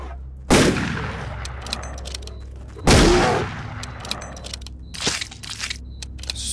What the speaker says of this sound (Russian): Аж два выстрела пришлось на него потратить.